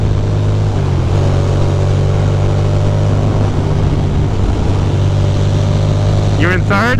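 A Ducati motorcycle engine drones at steady revs after a shift into fifth gear, its low harmonics holding under heavy wind noise before a brief rising rev near the end, with a rider talking over it.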